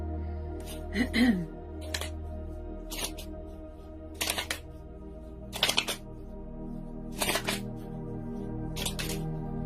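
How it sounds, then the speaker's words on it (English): Tarot cards are shuffled in a series of crisp riffling bursts, about six of them spaced a second or two apart, over a steady low background hum. "Just get a good shuffle in."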